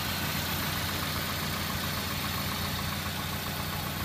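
A high-mileage 2001 Toyota Celica GT, around 190,000 miles, with its engine idling steadily up close, a continuous even drone that holds without a break.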